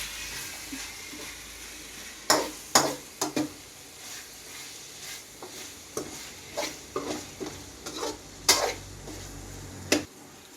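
Cauliflower gravy with salt and tomatoes stirred in a pan, with repeated sharp spatula scrapes and knocks at irregular intervals over a low, steady sizzle, close by and with no talking.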